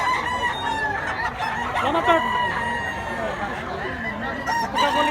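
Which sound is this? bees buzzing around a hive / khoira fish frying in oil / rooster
rooster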